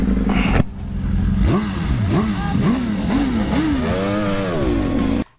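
BMW S1000RR superbike accelerating in a drag race, loud and close, climbing through a quick series of gear changes in rising rev sweeps before a final sustained high scream that cuts off.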